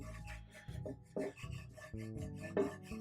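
A spatula scrapes crud from a cast iron skillet in a run of close, rough, rasping strokes of uneven length, with no talking.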